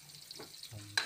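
Onions sizzle in a frying pan while being stirred, a soft steady crackle with brief scraping, then a sharper, louder burst of sizzle near the end.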